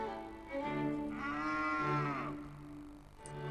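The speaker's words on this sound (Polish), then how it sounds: "Krowa." A cow lets out one long, drawn-out moo that swells and fades over about two seconds, heard close and clear over soft, sustained background music.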